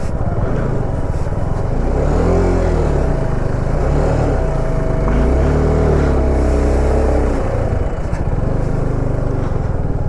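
A motorbike ridden along a rough, unstable mountain road in West Sikkim, its engine droning loudly and continuously with wavering pitch as it labours over the bumpy surface, no talk.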